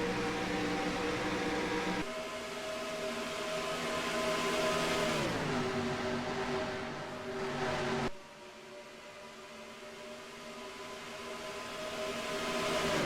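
Stock cars in a sim racing game at Daytona, engines droning at high speed with steady pitch shifts and a sudden drop as the car note changes, continuous and loud with no talk.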